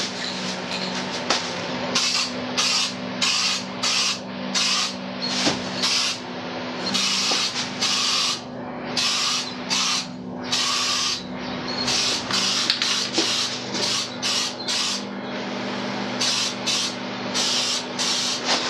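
Aerosol spray can applying adhesion primer to Honda Transalp motorcycle fairings, a series of loud close hissing bursts of varying length separated by short pauses, with a steady hum underneath.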